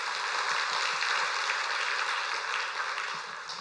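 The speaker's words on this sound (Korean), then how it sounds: "하나님께 박수로 영화 돌리십니다." A church congregation applauds during a worship service, a dense, steady wash of many hands clapping that continues throughout and eases slightly toward the end.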